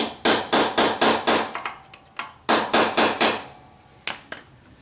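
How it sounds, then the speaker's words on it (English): Punch struck with a hammer to seat a wheel bushing on a John Deere lawn tractor wheel: quick runs of sharp metallic taps, five then three more, a few stray single hits, loud and close with no talk. "you can use your punch and just tap on this a little bit."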